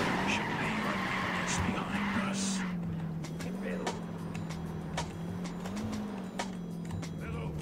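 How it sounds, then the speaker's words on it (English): A car driven in Ghost Recon Wildlands holds a steady engine drone from start to finish, with tire skids and squeals over it. A few sharp clicks cut in, and no one speaks. "I didn't know he was gonna jump in a car like that."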